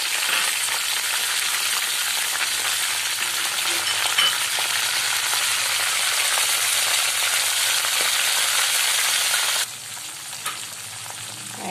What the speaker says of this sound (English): Fry all of them. Till the fluttering sound comes.